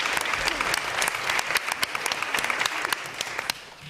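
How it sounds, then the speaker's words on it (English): An audience at a live Voice Box 2014 final show applauds for Katie Boggs, a steady, fairly dense round of clapping in a room, holding level throughout. "Give her a round of applause."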